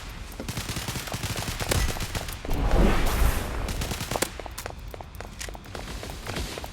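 Gunfire in a laggy online video game shooter, rapid bursts of shots mixed with running footsteps, steady and busy throughout with a denser stretch of fire midway.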